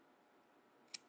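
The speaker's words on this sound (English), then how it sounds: "So now I'll just take my scissors" A single crisp snip of scissors cutting yarn, close and quiet, in an otherwise hushed room.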